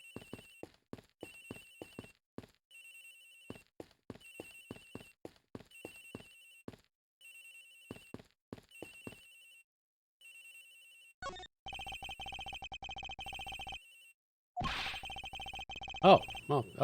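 A cell phone in the Ace Attorney Investigations video game plays a lullaby-like ringtone, a repeating electronic melody of short notes with pauses, moderately loud, later joined by other game sounds.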